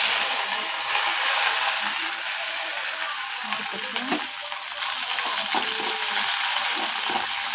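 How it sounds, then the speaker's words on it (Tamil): Mustard seeds and curry leaves splutter in hot oil, a dense, continuous crackling sizzle heard up close and steady throughout. "எண்ணெய் கடுகு கருவா ஆஃப் பண்ணிவிட்டு கருவேப்பிலை போட்டுருவேன் கடுகு பொறிஞ்சிச்சு"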